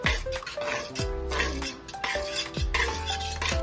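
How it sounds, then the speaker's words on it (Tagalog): A utensil stirs gelatin into water in a saucepan, giving repeated scraping and clinking strokes against the metal pan at an even rhythm, close up and fairly loud, with background music playing underneath. "Sunod ay haluin ito hanggang sa matunaw ang gulaman."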